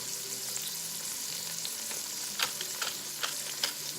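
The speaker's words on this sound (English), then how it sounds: "we'll go ahead and we'll give everything a stir again" Vegetable stock ingredients seasoned with salt and fresh cracked black pepper are stirred in a pot, a steady soft sizzle with a few light scraping clicks of the spoon toward the end.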